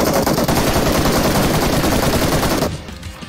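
Rapid automatic gunfire in the battle royale game BGMI, a loud dense burst of continuous shots that cuts off abruptly near the end, leaving a brief quieter tail.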